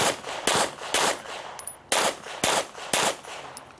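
Pistol fire at an IDPA match at Charlotte Rifle & Pistol Club: seven sharp, loud reports spaced about half a second apart, with a short pause in the middle and a faint echo after each.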